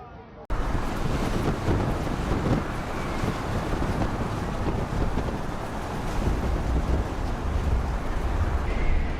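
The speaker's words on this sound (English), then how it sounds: "These waves are quite powerful and high." Storm wind roaring around a giant cargo ship carrying timber, with high powerful ocean waves crashing and surging, loud and continuous from start to finish.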